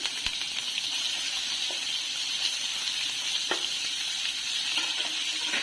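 Small pieces of ground mutton dropped into hot oil, a steady, close, bright sizzling hiss that runs throughout with a few faint clicks of utensils and no talking.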